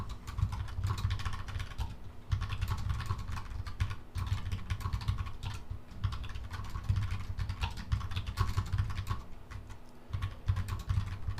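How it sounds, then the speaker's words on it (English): Steady, fast typing on a computer keyboard, continuous clicking keys close by with brief pauses, no voices. "At least you can hear me typing"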